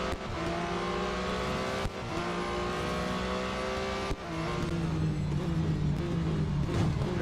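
Race car engines roar steadily in the Real Racing 3 video game, loud and continuous with sustained tonal drones, shifting pitch and brief dips as gears change during a multi-lap race, no talk over them.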